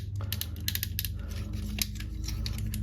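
Ratcheting joints on a Hasbro Transformers Studio Series 86 Leader Dinobot Swoop figure click as the figure is posed. Quick, light, close clicks come in irregular clusters over a low steady hum.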